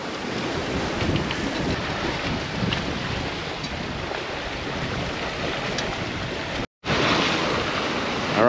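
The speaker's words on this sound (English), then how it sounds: "We've got pretty close to 20 knots of wind." Strong wind of about 20 knots buffets the microphone aboard a Catalina 30 sailboat at sea near the Long Beach breakwater, a loud, constant roar with rushing water, cut by a brief dropout near the end.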